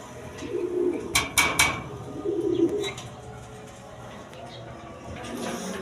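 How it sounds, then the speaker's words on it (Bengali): Indian Kaldom pigeons, a big-sized breed, coo at a loft in a few soft low bursts, with a couple of sharper flutters or chirps mixed in, close by over faint background noise. "এইখানে এক পেয়ার কবুতর কালদম কবুতর আছে দেখেন ইন্ডিয়ান কালদম একদম বিগ সাইজের দেখার মতো কবুতর"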